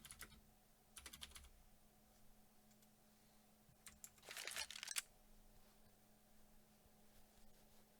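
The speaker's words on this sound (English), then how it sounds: "My keyboard, I have MX Cherry Blue switches on my keyboard, so it's pretty loud." Clicky typing on a mechanical keyboard with Cherry MX Blue switches during a Counter-Strike match cast on the Cobblestone map, heard as a few short bursts of sharp keystrokes, fairly close, with quiet gaps between them and no talk.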